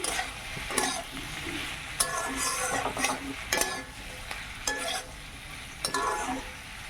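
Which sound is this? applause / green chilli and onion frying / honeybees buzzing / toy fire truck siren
green chilli and onion frying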